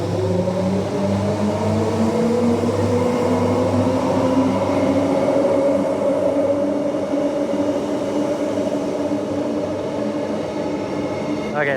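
A Transperth electric train pulls away from a station at night, its motor whine rising steadily in pitch as it accelerates, loud and close with a constant rumble underneath.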